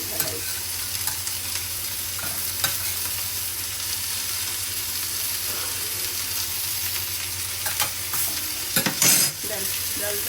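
Chicken frying and being stirred in a hot pan, with a steady loud sizzle throughout and scattered scrapes of the spoon, including a sharper clatter near the end, and no talk.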